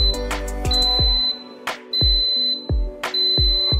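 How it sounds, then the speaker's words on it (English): Five high-pitched electronic beeps ring out from a Pigeon multi-function steriliser as it finishes, spaced apart with dull clunking knocks between them, fairly loud and close. "there will be a sound of 5 beeps"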